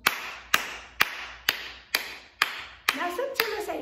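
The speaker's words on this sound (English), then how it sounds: "Clap your hands with me" Children clap their hands in a steady rhythm, sharp separate claps about every half second that turn into quicker claps near the end, with an adult voice singing or talking underneath.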